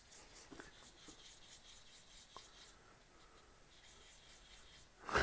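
Hand sanding of a resin turning with sandpaper gives quiet, soft rubbing strokes, a few faint scratchy passes spread out over a low background, ending in a louder brief rustle.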